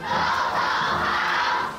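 A large outdoor crowd of more than 11,000 at celebrations in front of Taiwan's presidential office building, a steady, dense roar of many voices held at an even level throughout.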